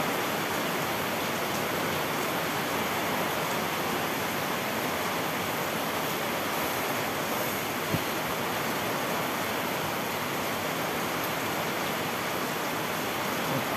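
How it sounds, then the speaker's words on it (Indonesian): Heavy rain pours down in a steady, dense broadband hiss, loud and unbroken throughout with no voices or other distinct sounds. "Sabar, hujan makin lebat geng."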